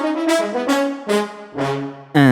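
A virtual brass ensemble from a VSL sample library, tightly humanized, plays five or so sustained chords, each swelling in together and fading, with the final chord entering louder and brighter.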